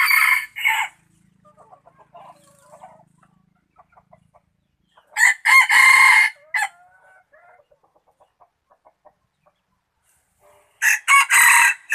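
Wild jungle fowl roosters crow loudly nearby in three separate bursts spread across the stretch, with softer clucks and calls in the quiet gaps between them.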